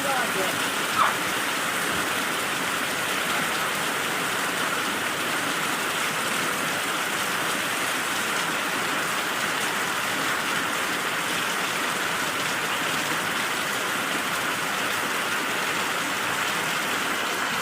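Steady, heavy rain pours down continuously over a flooded village farm field, a dense hiss of drops drumming on surfaces with no letup.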